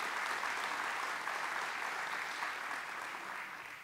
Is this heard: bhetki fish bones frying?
no